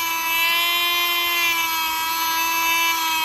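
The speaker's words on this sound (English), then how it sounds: "you can crank it up just as high as a Dremel tool, and this will take that final bit of texture" A rotary polishing tool run at high speed, like a Dremel, smooths the texture out of photoetch, giving a steady, loud, high-pitched motor whine with a constant tone and no talking.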